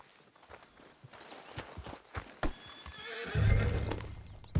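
Horse in Red Dead Redemption 2 whinnying near the end over a run of clip-clopping hoof steps, with a loud low snort and heavy breath as the neigh rises.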